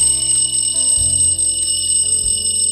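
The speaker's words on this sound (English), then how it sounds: "Nightstand." The Amazon Echo alarm tone called "Nightstand" plays as a steady electronic chime pattern with repeating tonal notes that shift in pitch, loud and close, with no voices present.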